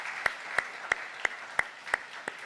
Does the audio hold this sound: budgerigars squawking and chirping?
no